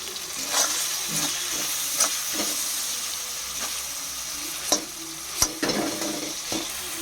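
Spices, tomato and potato frying in a pan, giving a steady hissing sizzle with occasional sharp scrapes and clinks of stirring, close up and moderately quiet, with no talking.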